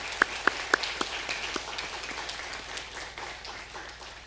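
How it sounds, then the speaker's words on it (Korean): A church congregation gives a short round of thanks to the preacher after a Sunday service sermon. The clapping is scattered and fairly light rather than a dense roar, with a few sharp claps standing out at the start and the rest fading into a soft patter. "매우 어려운 설교를 해주신 우리 서영식 집사님께 다시 한번 감사의 박수 해주시겠습니다"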